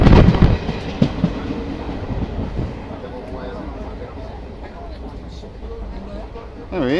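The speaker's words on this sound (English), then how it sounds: "Alright, me, George and Bertie on the train to Hampie." Passenger train to Hampi in India, heard from inside the carriage as a steady low rumble and rattle of the wheels, with a louder clatter at the start and at the end and people talking quietly over it.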